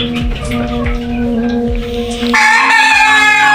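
Egyptian Fayoumi chickens on a poultry farm cluck loudly and repeatedly close by, with other birds chirping around them. A rooster-like call swells in the last second.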